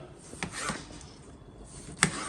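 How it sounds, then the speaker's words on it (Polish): A knife cuts into a tomato on a wooden cutting board, with a few soft, spaced taps and a sharper knock near the end as the blade meets the wood. The sounds stay faint and unhurried, with no talking. "deseczka do krojenia pomidorek i zakrajamy pomidora"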